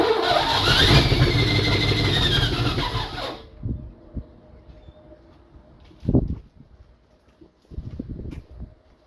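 A Chevy C-10 pickup engine cranks and fires up, a loud squealing, revving run for about three seconds that cuts off abruptly, followed by quieter scattered knocks and bumps.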